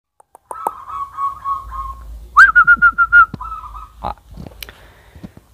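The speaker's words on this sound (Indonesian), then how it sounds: "di belakang kita ini adalah burung perkutut yang bukan ombyokan, tetapi pernah berkumpul dengan ombyokan" A zebra dove, or perkutut, gives clear, close, whistled cooing notes in short rhythmic phrases, with a few faint clicks and no talking.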